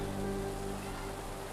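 Rain falling during work in the rice fields, a steady even hiss of drops that stays loud and close for the whole stretch, with a faint low tone underneath.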